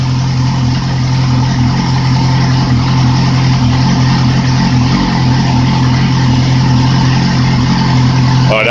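A 2008 Yamaha R6R sport motorcycle engine runs steadily with an aftermarket exhaust, a loud, constant idle hum that holds close and unbroken throughout with no voices.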